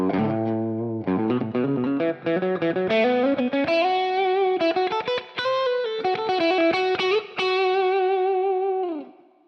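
Electric guitar through an Electro-Harmonix East River Drive overdrive into an amp, IR and EQ, with reverb on: a driven melodic lead with sustained bent notes, a steady loud tone and a reverb tail at the end.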